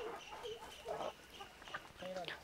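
Chickens, including Kadaknath and Kairali breeds, cluck and murmur in short bursts, a small mixed flock nearby with soft overlapping calls.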